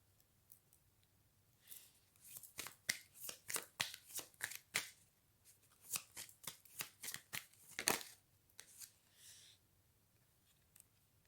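Tarot cards are shuffled close up for a card reading, producing a quick run of soft riffling and slapping bursts for several seconds, then a few sparse taps.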